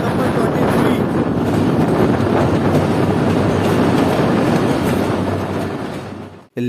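The Chaman passenger train runs through Balochistan with a loud, steady roar of wheels and carriages and buffeting wind, heard from on board, ending in an abrupt cut.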